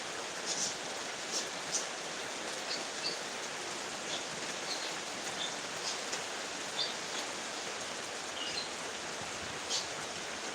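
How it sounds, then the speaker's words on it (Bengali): Heavy rain falls with a steady hiss that fills the air continuously, with occasional faint drips and patters standing out against the wash of noise. "বৃষ্টিটা আমার পুরো শরীরে আসতেছে ভিজে যাচ্ছে একদম"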